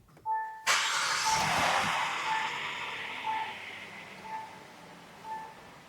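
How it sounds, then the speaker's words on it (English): Car engine in a vacuum test with an oil catch can fitted: a sharp cranking burst catches into a loud start, then a steady idle fades down and settles, with faint intermittent beeps over it. "I'm going to get in the car here and start it up"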